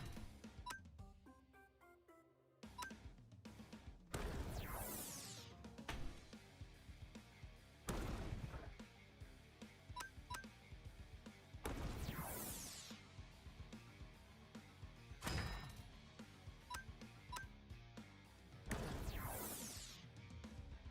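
Flash Cannon, a Pokémon attack in the Cobbleverse video game, fires in repeated loud metallic blasts with sweeping whooshes, several bursts spaced a few seconds apart over steady game sound.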